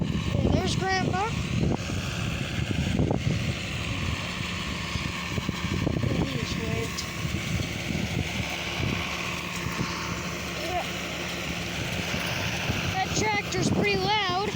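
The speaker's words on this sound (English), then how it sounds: "Tractor's pretty loud." John Deere tractor running loud and steady while pulling a 530 baler on a farm, a continuous low engine drone with wind buffeting the microphone and people talking over it.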